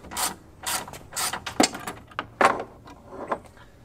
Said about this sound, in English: 4-inch extension and a 10 millimeter bolt.